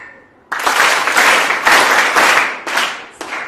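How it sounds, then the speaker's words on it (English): A seminar audience breaks into ragged clapping that starts suddenly, then comes in several loose, overlapping bursts instead of one crisp single clap, fairly loud and close with no talking. "One time clap."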